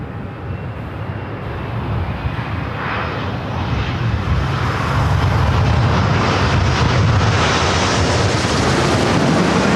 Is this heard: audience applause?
no